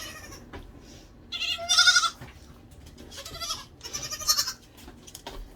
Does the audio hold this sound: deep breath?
no